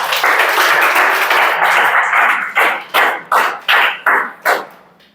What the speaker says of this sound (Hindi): ताली बजाओ जी।